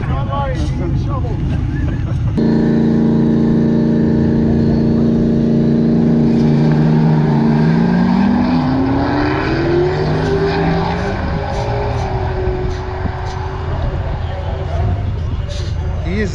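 An off-road car engine revving hard through gears under power shifting, loud and close, with pitch climbing and dropping between shifts; people talk over it early on.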